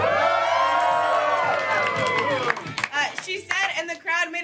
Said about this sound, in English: once again, the crowd went wild.